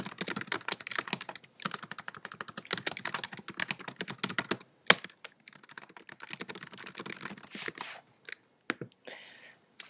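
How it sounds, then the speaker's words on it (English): Fingers type on a computer keyboard in fast, close clicking runs that pause briefly and thin out into scattered keystrokes near the end, with no talking. "So I've just typed in what it is that I want to say above and below the sales offer"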